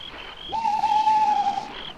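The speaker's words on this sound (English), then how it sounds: "Old Mr. Owl paying his calls to every tree and bush." An owl gives one long, steady hoot, close and clear against a quiet night background.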